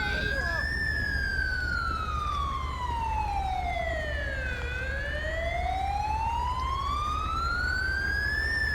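An ambulance siren in the LSPDFR police game, a loud wailing tone that sweeps slowly down and back up over a steady low engine drone, close and continuous.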